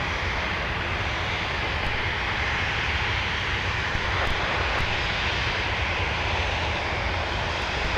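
A Sun Country jet airliner taxiing at Minneapolis–St. Paul airport gives a steady, loud engine roar and hiss that holds evenly throughout, with no talk.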